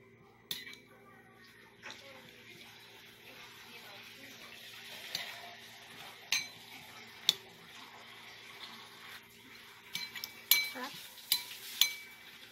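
Utensils mix a lettuce salad with cucumber, mango, grapes and blue cheese, giving soft, quiet tossing and rustling with occasional sharp clinks against the bowl.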